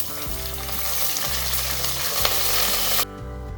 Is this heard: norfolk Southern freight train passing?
no